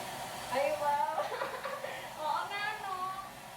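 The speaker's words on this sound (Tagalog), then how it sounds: "Gumamit na nga ako ng blower" A hair dryer blows steadily on a bridesmaid's freshly washed hair while getting ready on a wedding day, with a woman chatting and laughing over the continuous airflow.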